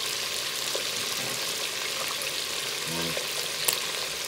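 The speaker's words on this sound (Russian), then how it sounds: "Видно, да? Как жарится." Chicken pieces and potatoes fry in a pan with a steady, fairly quiet sizzle and crackle, a brief stir near the end, while a voice speaks briefly.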